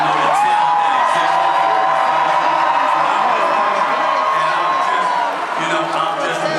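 A large, amazing crowd at Norfolk State University during an ESPN First Take HBCU tour stop, cheering and shouting in a steady, loud roar that stays full from start to finish, with scattered whoops.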